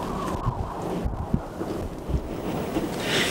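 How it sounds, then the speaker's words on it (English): Strong wind blowing drifting snow in the Teton winter outdoors, a constant loud roar with gusty buffeting against the microphone and no other clear sounds. "Man, the wind is gnarly."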